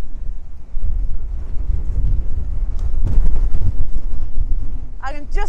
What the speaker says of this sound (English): As you can hear this wind